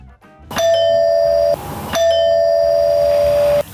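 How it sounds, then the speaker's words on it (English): A wired smart video doorbell chime rings twice in a quiet room, each tone a clear sustained ding that holds for about a second before cutting off. "As you can see, the doorbell system works as intended."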